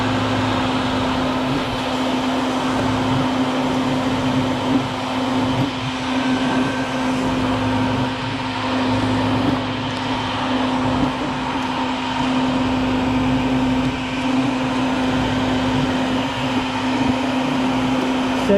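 Vacuum sucking up baldfaced hornets from a nest by a walkway, a loud continuous motor roar with a steady whine and no break.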